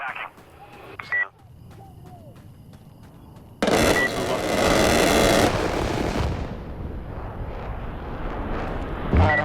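An airstrike in the military shooter game Insurgency Sandstorm hits as a sudden loud roaring blast that swells into a sustained rumble and then fades, with gunfire and radio voices around it.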